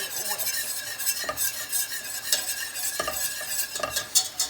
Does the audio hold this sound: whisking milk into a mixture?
yes